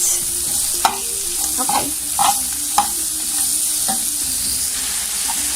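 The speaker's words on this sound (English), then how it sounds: "I have put in the onions and tomato, and twist, toss and turn, twist, toss and turn." Onions and tomato fry in a pan for a sardine curry while being stirred and tossed, a constant sizzle with a few scraping utensil strokes and light knocks; a brief spoken word is heard.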